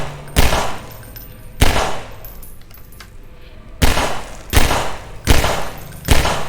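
A gun fired in Half-Life VR, six loud close single shots at uneven intervals, each sharp crack followed by a short decay against a quiet background.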